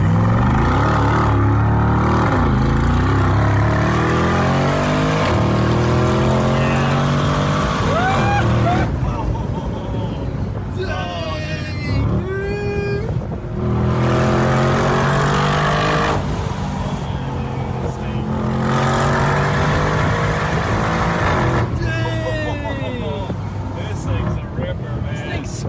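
A rebuilt, formerly wrecked 2022 Mercedes G63 G Wagon SUV accelerates hard from inside the cabin, its engine note climbing in repeated sweeps as it moves through the gears, while occupants talk and exclaim throughout.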